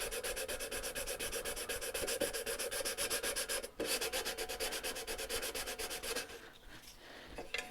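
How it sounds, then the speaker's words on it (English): A sanding sponge rubs over a painted can in fast, even back-and-forth strokes, a close rasping scrub that pauses briefly and then resumes before trailing off. "So I'm going to take a sanding sponge"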